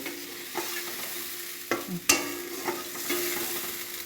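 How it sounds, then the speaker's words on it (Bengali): Tomato with salt and spices being stirred and fried in a pan, a low steady sizzle broken by a few sharp scraping clinks of the spoon against the pan, close and fairly quiet, with no talk. "টমেটোটা দিয়ে সামান্য নুন দেব। এবার আমি এটাকে ভালো করে কষিয়ে নেব।"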